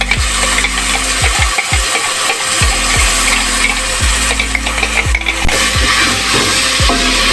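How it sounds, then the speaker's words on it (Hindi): Blended tomatoes hit browned onions frying in a pan, then a spoon stirs repeatedly, producing rhythmic scraping knocks every second or so over a constant loud sizzle. "टमाटर डाल के इसको अच्छे से मिक्स करना है।"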